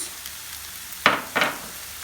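Onions and spices sautéing in a pan give a faint background sizzle, broken by two quick, loud stirring scrapes in close succession.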